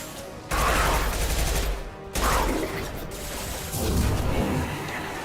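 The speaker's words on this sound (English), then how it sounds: "Firing concussive shots!" Concussive shots fire in the Mass Effect video game as loud, dense volleys of gunfire in three long bursts, each dipping briefly before the next barrage.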